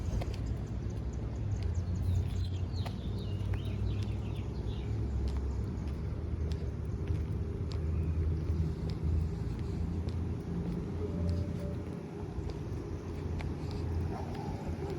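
Two cars drive past on a road, a steady low rumble of traffic with faint bird chirps and a distant dog bark, no talking.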